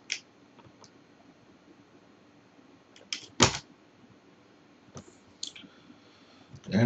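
A few sparse keyboard key presses during a FreeNAS installer setup on a single-drive system, sharp isolated clicks spaced seconds apart against a quiet background, with one louder press near the middle.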